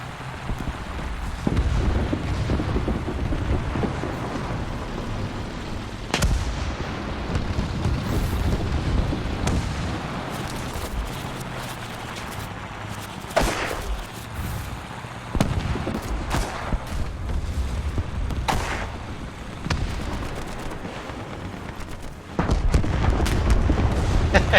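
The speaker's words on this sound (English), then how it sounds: "like bombs are coming my way" Bombs and artillery shells burst in a War Thunder match, with dull booms and sharp cracks over a steady rumble of battle noise, some near and loud, others distant.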